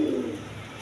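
Cream-coloured Gorra pigeons give a short, soft low coo, close and fairly clear, with no talking.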